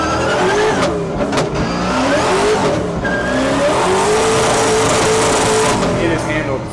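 A NASCAR-engined Mazda Miata revs loudly up close, its engine note rising and falling as the tires squeal and slide into turns, with a sustained skidding screech across the run.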